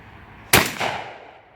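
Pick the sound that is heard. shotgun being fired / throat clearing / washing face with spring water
shotgun being fired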